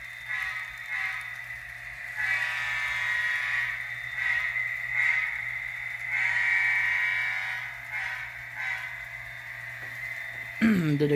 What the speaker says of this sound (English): give her a horn toot again